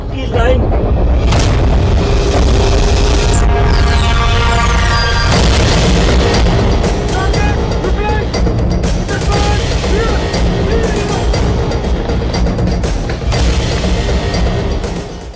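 Indian Army artillery guns fire at enemy positions, loud booming blasts and rumbling concussions filling the whole stretch, with dense layered noise and a voice partly heard under the din.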